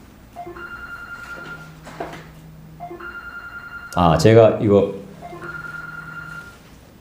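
A mobile phone's ringtone sounds repeatedly during a church sermon, a synthesized melodic ring recurring under ongoing room ambience, with someone speaking loudly over it partway through.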